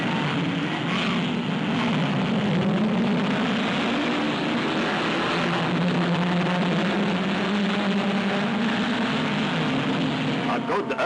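Racing cars at the start of the 1968 Hardie Ferodo 500 at Bathurst, a sustained roar of many engines droning together at a distance, steady throughout with a slight rise and fall in pitch.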